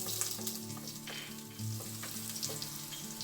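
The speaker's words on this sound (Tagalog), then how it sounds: "Same pan, igisa or isusutay natin yung ating garlic." Garlic sautéing in the same pan for pork estofado gives a soft, continuous sizzle with light stirring scrapes, heard alone at fairly low volume.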